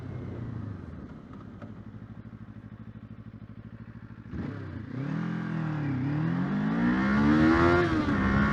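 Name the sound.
Kawasaki 500 motorcycle accelerating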